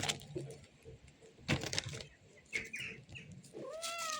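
A cat meows a few times, fairly close, with short rising calls near the end amid light rustling and clicks.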